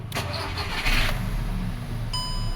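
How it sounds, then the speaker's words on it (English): A 2010 Volkswagen Golf with a 1.4L TFSI engine cranks briefly and catches, then settles into a steady close idle hum, with no talking. "Start the car."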